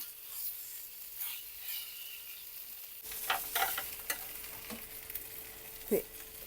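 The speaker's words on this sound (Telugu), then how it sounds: "ఈ విధంగా బాగా అటు ఇటు బాగా కాలే వరకు కూడా ఫ్రై చేసేస్తున్నా" Fish fries in a pan for homemade mandi, a soft steady sizzle broken by scraping and rubbing as it is turned back and forth, quiet at first then busier after a few seconds.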